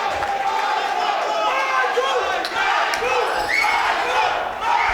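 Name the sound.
crowd cheering at a kickboxing fight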